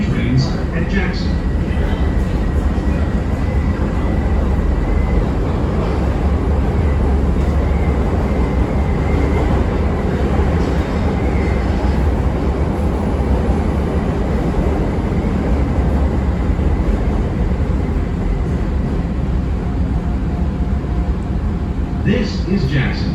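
A CTA Blue Line train, car 3329, roars loudly along the track in Chicago, a dense continuous rumble and rattle with faint hiss above, steady from start to finish.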